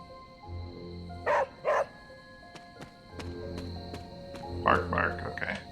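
In the video game Marvel's Midnight Suns, a dog gives two sharp barks and then a later cluster of yips over soft ambient game music, with a hum beneath.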